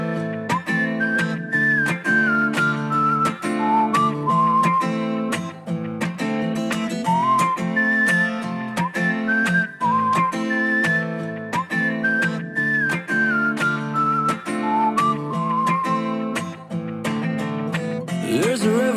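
A person whistles a bright melody along to an electronic pop song with a steady beat, the clear whistled line riding over the music throughout.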